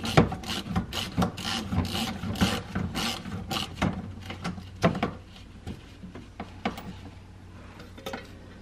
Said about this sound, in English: Let's take out one of this cover